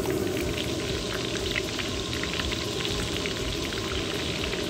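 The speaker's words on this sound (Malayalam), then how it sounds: "ഈ ഉള്ളി അങ്ങോട്ട് വറക്കണം" Onions frying in hot oil for a Kerala thattukada-style chicken fry, a steady dense sizzle and crackle that holds at an even level from start to finish, close and unbroken, with no talking over it.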